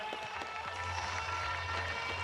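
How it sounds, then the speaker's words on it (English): Audience applause and clapping for the organizers at a 2017 UEC BMX European Cup race in Sandnes, Norway; a steady, dense wash of hands clapping over a low rumble, continuing throughout. "So can I have big applause for the organization"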